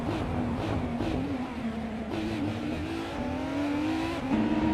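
A 2019 IPS Kuruma race car engine in a racing video game holds a steady, loud drone with pitch rising and dipping through gear changes, continuous for the whole stretch with no talk.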